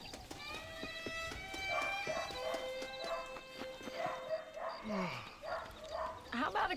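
Horse hooves clip-clop in steady beats in the Red Dead Redemption video game, along with a dog barking, a brief whinny and other game sounds, all under voices talking throughout.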